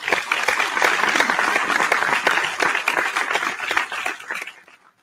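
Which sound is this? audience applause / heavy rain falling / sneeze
audience applause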